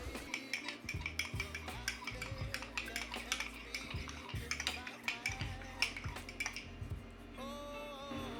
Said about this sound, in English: I'm gonna add the sorrel to the cornstarch, and I'm gonna use a tablespoon to mix it.